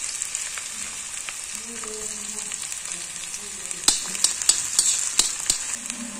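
Green chillies and ginger fry in a pan for Punjabi-style sarson ka saag, giving a steady close sizzle with soft stirring and scraping clicks that grow busier toward the end.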